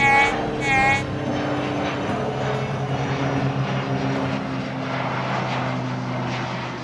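Airplane engines drone steadily at a beach air show, a loud, continuous roar that holds throughout, with a brief tonal whine at the start.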